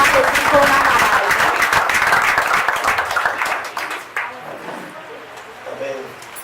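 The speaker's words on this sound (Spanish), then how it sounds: "Démosle un fuerte aplauso por su ministerio, por su vida" A church congregation claps in loud, busy applause that gradually thins out into scattered claps and fades, with faint voices and murmurs underneath as it dies down.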